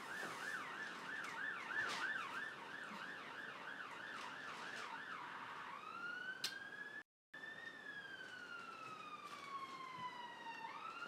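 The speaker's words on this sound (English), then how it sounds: "You can hear the sirens." An emergency siren wails from a distance, first rapid yelping cycles, then a slower rising and falling wail, steady and moderately faint.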